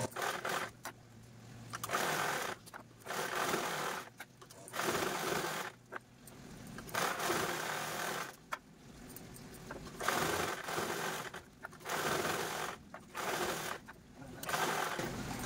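A sewing machine quilts diagonal rows of straight stitches across fabric for a designer party-wear purse, running in loud rapid bursts separated by short pauses, close up with no talking.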